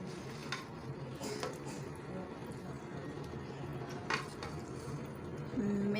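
Green chillies, coriander and mint being stirred into chana pulao, giving soft repeated scraping and clinking of a spoon against the pot with a faint sizzle underneath, steady and close throughout.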